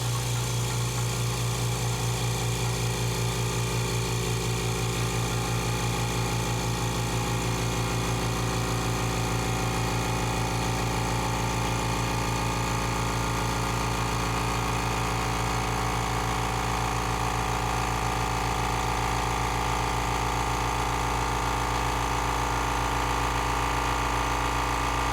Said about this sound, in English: I've closed off the valve, and I'm ready to start pumping in pressure.